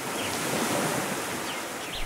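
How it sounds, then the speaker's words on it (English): Ocean waves wash onto a shore in Haiti in a steady, loud, broadband roar, with some wind mixed in. There are no voices. "waking up to ocean waves is"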